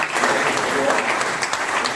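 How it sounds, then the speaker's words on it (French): A conference audience applauds the Moroccan national football team, a steady, dense wash of clapping that holds for the full two seconds, with some indistinct voices mixed in. "j'aimerais qu'on applaudisse tous l'équipe nationale marocaine"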